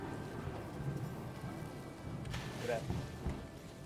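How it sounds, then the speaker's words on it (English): In the video game Dinkum, steady rain falls through a storm with a sharp lightning crack and rumbling thunder about two-thirds of the way in, near and loud over the constant downpour. "That lightning was a bit too close."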